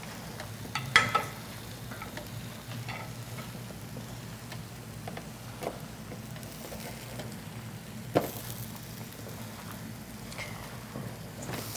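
Eggplant slices sizzling on a grill, a steady quiet hiss and crackle with a few scattered pops and taps throughout.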